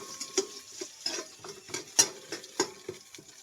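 Onion, garlic and ginger sautéing in a pan for shrimp ginataan, with a spatula scraping and tapping in quick, irregular strokes over a light sizzle, close and clear.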